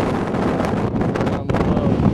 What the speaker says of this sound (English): See, it's pretty good wind up here.